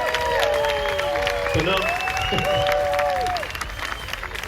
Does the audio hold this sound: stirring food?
no